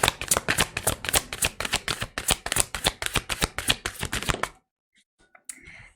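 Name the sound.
tarot cards being shuffled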